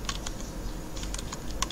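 A channel name being typed on a computer keyboard: a short run of light, irregular key clicks, close and clear over a steady background hiss.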